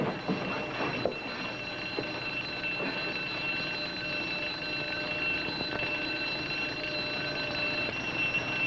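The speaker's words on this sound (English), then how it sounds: "I'd better turn off the alarm." An electronic mineral detector alarm rings steadily and continuously at moderate level in an indoor setting, with faint background noise and no talking.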